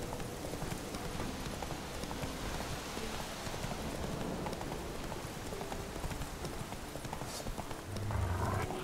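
Horse hooves clip-clop steadily at a walking pace in The Witcher 3, a continuous rhythmic clatter layered over soft rain-like ambient hiss with no talking.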